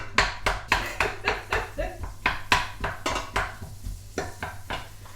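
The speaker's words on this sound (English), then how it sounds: "just gently start frying your onions off" A wooden spoon knocks and scrapes against a pan while onions fry for a mince and onion pie, giving a run of sharp, regular clatters with a faint sizzle underneath.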